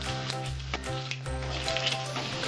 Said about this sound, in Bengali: সাদা জিরেটা দিয়ে দিচ্ছি, দিয়ে দিচ্ছি এলাচগুলো।